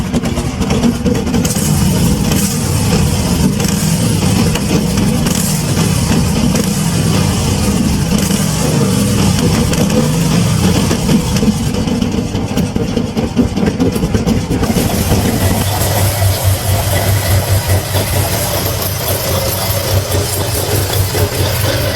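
Engines of a classic machine run steadily with a low, thumping rumble that swells and settles like idling and light revving, continuous and fairly loud throughout with no talk.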